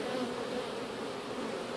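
Honey bees buzz in a packed backyard megahive box during an inspection, a dense steady drone heard close and alone.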